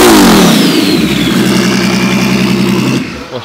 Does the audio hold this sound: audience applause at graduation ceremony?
no